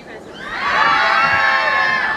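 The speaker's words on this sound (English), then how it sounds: "On the count of three, scream and shout as loudly as you can." At a staged train robbery show, an audience of adults and children screams and shouts on cue, a swelling roar of cheering voices that holds steady, then tapers off.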